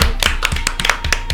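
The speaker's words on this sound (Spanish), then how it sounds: "Vamos a recibir a Andrea Ugalde con un fuerte aplauso" A studio audience breaks into a short burst of applause to welcome a guest, Andrea Ugalde, onto an interview show about feminism and philosophy; dense, steady clapping near the microphone with no voices over it.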